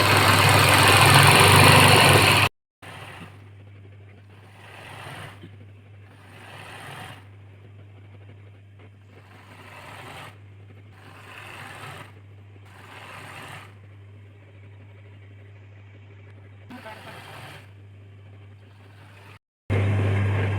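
An embroidery machine stitching a turban seam, a steady mechanical whir broken into repeated stitching bursts over a constant low motor hum, with louder handling noise at the start and end.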